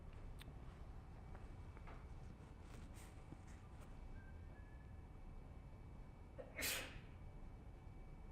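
A single sharp sneeze bursts out in a quiet lecture room, short and moderately close against a low hum, with a few faint rustles before it.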